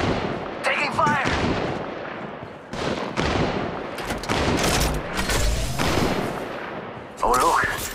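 Gunfire in the video game Apex Legends, with bursts of shots and heavy booms in a firefight, loud and close, coming in clusters with brief gaps and a faint voice now and then.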